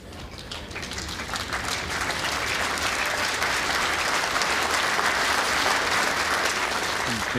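Sustained applause from a large indoor crowd at the 2019 World Indoor Bowls Championships at Potter's Resort, clapping dense and steady throughout after a good bowl.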